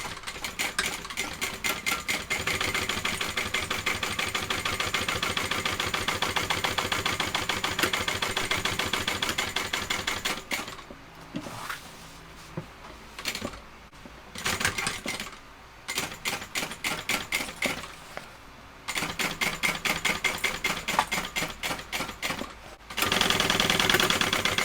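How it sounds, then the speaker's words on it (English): A sewing machine topstitches a seam on a shoulder bag with a fast, rhythmic clatter. It runs continuously for about ten seconds, then goes on in several shorter stop-start bursts, all close by and with no voices. "So now what I'm going to do is top stitch 1/8 of an inch from each side of that seam."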